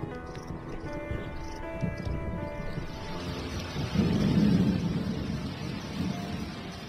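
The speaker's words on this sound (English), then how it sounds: "Thunderstorms may be brief here, but they often presage long rainy spells." Thunder rolls over a wild leopard habitat during a brief rainstorm. A low, deep rumble swells midway and fades, heard at moderate distance over a steady background of rain and outdoor ambience.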